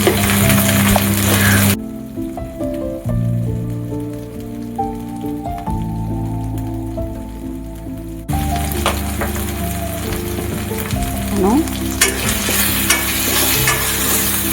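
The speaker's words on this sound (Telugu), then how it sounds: "ఆనియన్స్ మంచి గోల్డెన్ లైట్ కలర్ వచ్చే వరకు నెమ్మదిగా వేయించుకోండి" Onions frying slowly in a pan until golden for an Andhra-style curry, a continuous rain-like sizzle that drops quieter for several seconds before swelling again, with occasional stirring scrapes.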